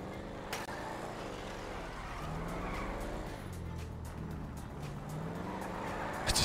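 A stolen Camaro ZL1 driving in a GTA RP video game, engine note rising and falling through gear changes with brief tire squeals, heard close and steady without talk.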